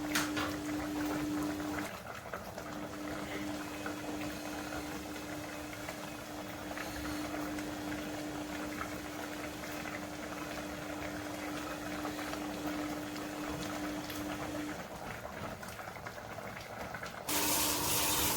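Fried chicken pieces simmering in a pan of gravy, a continuous low bubbling and burbling close by, steady throughout with a faint hum and a brief shift near the end.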